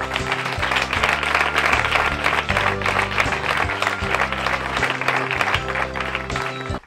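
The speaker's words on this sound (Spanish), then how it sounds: "es un mérito y un aplauso para todos ellos" An audience at a sports awards event claps continuously while music with a steady bass line plays underneath, the applause staying full and even before cutting off at the end.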